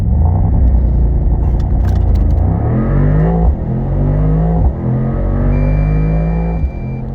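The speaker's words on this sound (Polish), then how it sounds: "Procedura startu robi ogromne wrażenie, auto wylatuje jak z katapulty i to z małym poślizgiem z wszystkich 4 kół" Mercedes-AMG SL 63 4MATIC+ roadster with a 4.0 V8 launching hard from a standstill under launch control, the engine roaring loud and close as it climbs through several quick upshifts with brief dips between gears.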